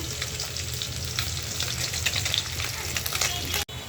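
Fish fries in hot oil in a home kitchen with a loud, continuous close-up sizzle and crackle, plus occasional stirring, with no talk over it.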